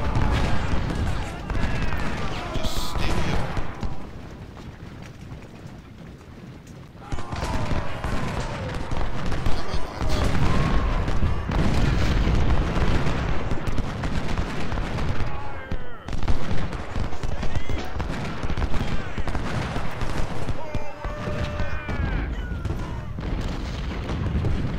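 Dense rifle volleys and booming artillery fire from an Ultimate General: Civil War battle at Malvern Hill, a steady loud barrage of pops and thuds that thins briefly before resuming at full intensity.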